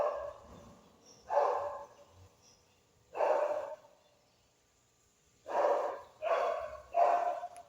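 A dog barks five times, single sharp barks spaced irregularly, fairly close, with quiet breathing and faint rustling in between.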